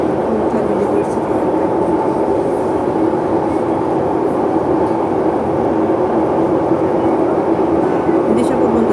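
A steady, loud rumble fills a moving train carriage on the ride from Admiralty toward Shatin in Hong Kong, droning on without a break while a voice talks over it.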